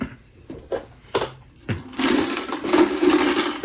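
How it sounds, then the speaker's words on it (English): Screws being refitted into a Singer Confidence 7640 sewing machine during repair: a few sharp metallic clicks and taps, then a steadier rasping, whirring handling noise with repeated scraping accents, close by and fairly loud. "now we're going to start putting some screws back"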